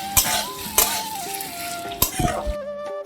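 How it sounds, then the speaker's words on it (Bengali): Tomato frying with spices in a pan while being stirred, giving a few distinct scraping strokes over a low sizzle, close and moderately loud. "আমি কিছুক্ষণ নেড়ে চেড়ে টমেটোটা ভেজে নিচ্ছি মশলার সঙ্গে"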